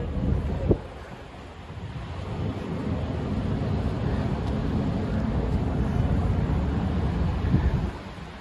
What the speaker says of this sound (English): Looks like we're walking with the wind at the moment